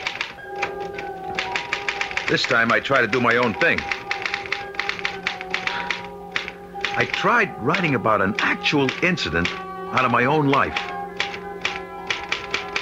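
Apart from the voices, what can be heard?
typewriter typing in radio drama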